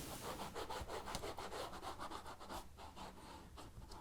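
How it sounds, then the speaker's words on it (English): A model railway landscape surface gets rubbed to clear leftover marks, a close, continuous dry scrubbing made of quick back-and-forth strokes in a steady rhythm, with no voices. "just giving it a rub to take out the remaining marks"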